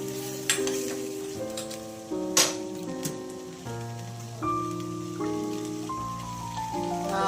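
Carrot and potato pieces are stirred in a pan, with soft scraping clicks and a light sizzle heard faintly beneath louder background music, no one speaking.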